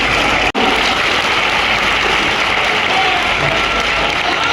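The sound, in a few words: thunderous applause for guest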